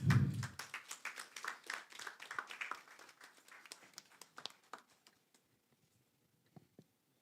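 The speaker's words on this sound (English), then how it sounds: "Please let's give him a round of applause." An audience at a stakeholder forum on inclusive development applauds after a presentation on the national budget: a moderate ripple of many hands clapping that gradually thins out and fades to a few scattered claps.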